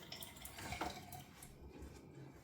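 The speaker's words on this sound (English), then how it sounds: "Put a bit of water on this brush." A Kent pure badger shaving brush is wetted with water at a sink, giving a steady close splashing and trickling wash with faint clinks of dishes or metal in the background and no talking.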